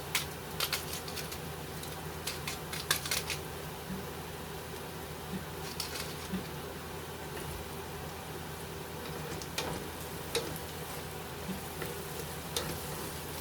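Onions and garlic fry quietly in a pan for a red pepper sauce, a soft continuous crackle with scattered pops and light stirring clicks, heard alone.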